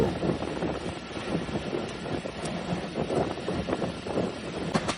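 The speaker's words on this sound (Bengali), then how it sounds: "কুয়াশাচ্ছন্ন সকালে নচ খুলে দুরন্ত গতিতে প্রবেশ করছি শরীয়তপুরের জাজিরায় উপজেলায় অবস্থিত পদ্মা রেলওয়ে স্টেশনে" A non-stop special train speeding into Padma railway station at Jajira, Shariatpur, on a foggy morning, a rushing rumble of wheels and rattling carriages mixed with heavy wind buffeting close to the microphone.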